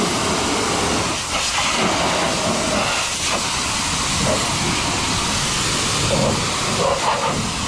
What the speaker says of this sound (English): So that pressure washer is breaking off a little bit of that flake rust